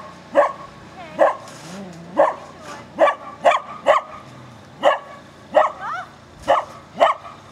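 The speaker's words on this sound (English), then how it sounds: "You're making the dog bark." A dog barks repeatedly outdoors during a December snowstorm, about ten sharp, fairly close barks at an uneven rhythm of roughly one per second, with faint whimpering sounds between them.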